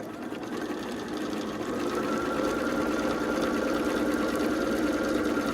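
A sewing machine stitches quilt pieces for an Ohio Star quilt, its needle chattering in a fast, steady mechanical rhythm that starts softer and settles into a loud, even run.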